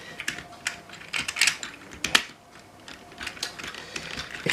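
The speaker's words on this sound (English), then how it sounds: "sometimes you get clicks when you put the legs in" Plastic parts of a Power Rangers Beast-X Megazord toy click and snap into place with bursts of sharp, close clicks and rattles at an uneven pace, with no talking.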